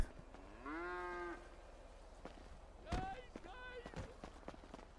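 A cow moos once in GTA RP, a drawn-out in-game lowing, followed by gunshot-like cracks and hurried footsteps while players shout over the scene.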